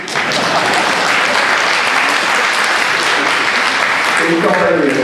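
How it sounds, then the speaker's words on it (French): Loud, dense applause from an audience at a municipal election campaign speech, continuous clapping close by throughout, with a voice breaking in near the end. "Là, vous pouvez applaudir."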